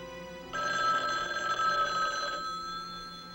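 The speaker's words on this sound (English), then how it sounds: "answer the phone. Answer the phone!" A telephone bell rings in a steady, sustained trill in a 1978 crime drama, moderately loud and continuous over a quiet room, with no talk.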